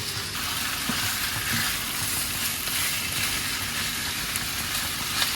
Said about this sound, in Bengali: এটা একটু ফ্রাই করতে হবে মাংসটাকে।